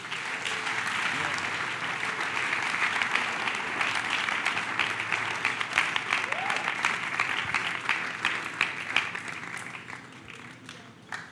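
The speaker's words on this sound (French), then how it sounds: "Acclamez très fort." Church audience applauding at a prophecy meeting in Mauritius, steady dense clapping that holds strong for about ten seconds and then thins out near the end.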